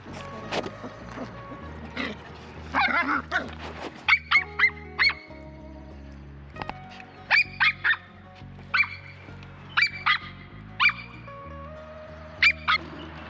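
Dogs bark in repeated short bursts at close range as a young dog meets a bigger male dog, with quieter stretches of growling, huffing and scuffling between the barks.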